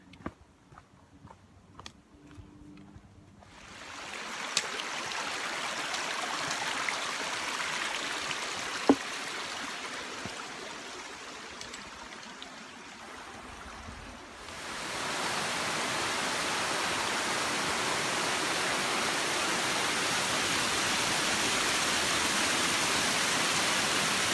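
Steady broadband rush of the Pigeon River at Davenport Gap on the Appalachian Trail, quiet at first and then swelling to a loud, continuous roar close by, with no voices.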